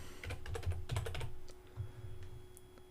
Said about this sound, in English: So I'm going to type in center.